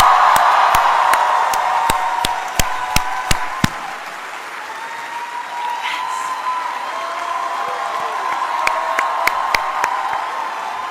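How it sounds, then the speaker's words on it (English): Audience cheers and claps in a standing ovation at a speech, an opening burst of crowd whooping and sharp hand claps that thins out, then scattered claps return near the end. "stand up if you can and just start cheering and clapping"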